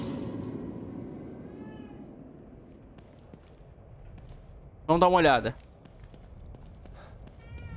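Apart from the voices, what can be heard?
cat meowing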